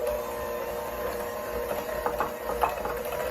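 Electric mixer blending sourdough discard into brown butter chocolate chip cookie dough gives a steady mechanical whir with a constant motor hum, close and moderately loud, with a few soft knocks late on.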